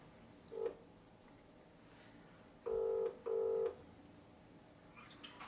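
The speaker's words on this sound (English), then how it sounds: "So, I ringed up my friend George to see if he would be up for sneaking" A quiet telephone line: one short dial tone beep, then two paired ringback tones in a double-ring pattern, with faint background hiss.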